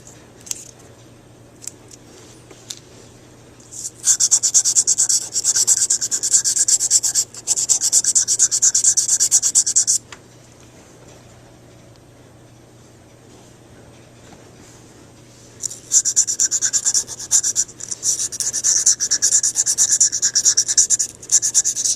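Hand sanding of auto bodywork with sanding sticks gives bursts of rasping, scratchy strokes that come in two long spells separated by quiet pauses, close and fairly loud, with no talking.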